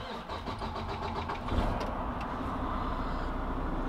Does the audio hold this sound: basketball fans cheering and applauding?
no